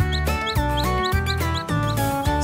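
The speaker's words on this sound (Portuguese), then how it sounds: "Cacarejos e resmungos daqui pra lá." Chickens cluck in a busy henhouse in a toy farm animal game, a rapid, regular run of short squawking notes over a bouncy musical beat, loud and continuous.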